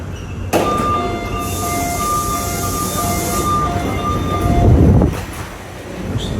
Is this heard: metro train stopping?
yes